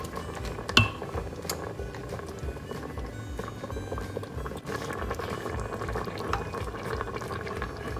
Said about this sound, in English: Bring it to boil, and I'm going to cover it and cook for about 4 minutes